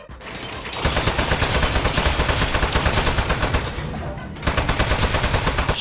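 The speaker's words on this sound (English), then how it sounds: "Shoot the speed up switch in the back." Rapid automatic gunfire in the Aperture Desk Job video game, loud sustained bursts that run for several seconds with a brief dip in the middle.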